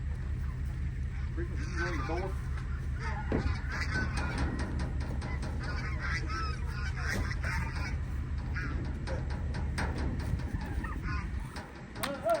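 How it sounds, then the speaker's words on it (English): Big turkeys on a farm call out in a steady chorus of gobbles and honking cries, close and fairly loud, running the whole stretch over a low engine-like drone, with a person talking briefly. "Big old turkeys."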